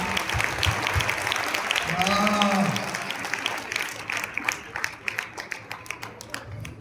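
Audience applause at a Christian revival meeting in Shirdi, scattered clapping rising under a preacher's voice, with a brief tonal sweep partway through and sparse claps continuing afterward.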